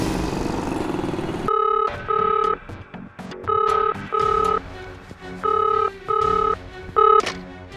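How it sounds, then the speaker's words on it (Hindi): A telephone rings in repeated double bursts, loud and steady, after a rumble of passing traffic fades out. "सर, श्रेया का फ़ोन है सर"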